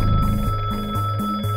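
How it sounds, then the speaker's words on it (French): A telephone rings in quick repeated bursts, loud and close, during a kidnapping ransom call, with no voices over it. "Le téléphone sonne"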